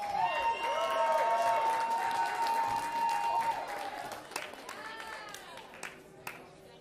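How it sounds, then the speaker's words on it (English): A concert crowd gives a modern rock ensemble a round of applause beneath a loud, sliding whistle-like tone, the clapping fading into scattered claps toward the end. "a big round of applause"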